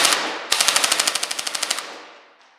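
Toy AR-style rifle with a high-capacity magazine fires a rapid burst of about fourteen sharp, evenly spaced shots at close range, trailing off into a fading mechanical hiss.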